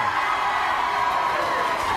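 A big Friday night studio audience at a late-night talk show cheers and whoops steadily, a broad sustained roar with someone talking over it.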